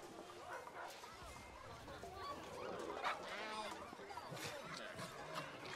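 Dogs barking and yelping in a video game, a busy stream of yaps and honking cries layered together, moderately loud, with a voice talking over the game sounds.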